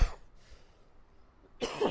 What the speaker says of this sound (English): I'm sorry, I'm coughing a lot